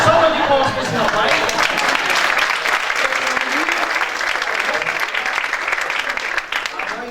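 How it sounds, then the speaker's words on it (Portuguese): Loud, sustained audience applause at a talk, a thick stream of clapping that holds steady throughout, with some murmuring and light laughter mixed in and a voice near the end. "Salva de palmas para esse rapaz."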